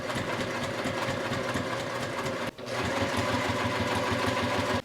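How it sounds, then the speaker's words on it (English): A sewing machine edge stitching close to the edge of a hem runs steadily and close up with a fast, even mechanical chatter, pausing briefly at the midpoint before resuming at the same pace. "you're going to edge stitch here, so you're gonna sew as close to the edge of the hem as you can"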